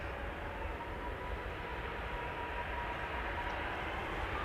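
A Transavia airliner takes off from Schiphol's Polderbaan, a steady broad jet roar at moderate distance holding a constant rumbling wash without clear peaks.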